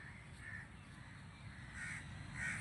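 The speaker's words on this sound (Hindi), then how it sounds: "ऐसे ही कौवे चिल्ला रहे थे जैसे अभी आपको बैकग्राउंड में सुनाई दे रहे होंगे" Crows cawing faintly in the background, a few scattered harsh calls drifting over a low steady rumble of outdoor ambience, distant and soft.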